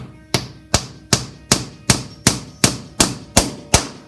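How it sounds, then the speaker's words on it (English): A hammer taps a long nail into a pre-drilled hole in a wooden desktop organizer, giving ten sharp, evenly spaced knocks about every 0.4 seconds, close and loud with no talking. "you're going to grab the hammer"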